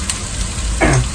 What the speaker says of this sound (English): I'm frying this on high heat for about 5 minutes